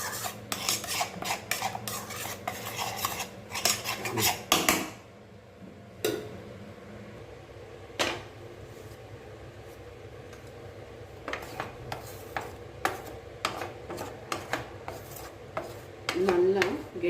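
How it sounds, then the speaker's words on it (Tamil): Amla and ginger murabba being stirred in a pan on the stove, with bursts of rapid rasping scrapes and clinks of a spoon against metal, separated by quieter stretches, close and fairly loud. "இப்போது அடுப்பில் வச்சு நம்ம கிளற வேண்டியதாங்க,"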